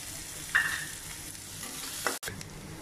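Chopped onion and curry leaves frying in hot oil, a steady close sizzle with a couple of sharp stirring clinks and a brief dropout near the end.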